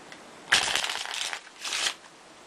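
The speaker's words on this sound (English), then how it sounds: "So this is handling for shuffling." A deck of playing cards riffled in two quick bursts, close and crisp, the first longer than the second, with no talking over them.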